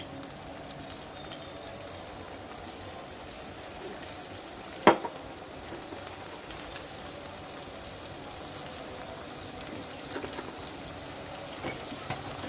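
Mixed vegetables frying in a pan as powdered spices are added, a steady soft sizzle running throughout with one sharp clink or stir near the middle.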